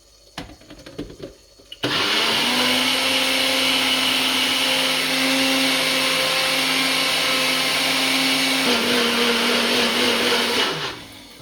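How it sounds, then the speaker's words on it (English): A kitchen blender purees onion and celery, roaring up sharply after a few handling clunks and holding a loud, steady whirring drone for about nine seconds before its pitch shifts and it winds down. "I would spend a little bit more money on getting the really good blender, because that took a long time to do"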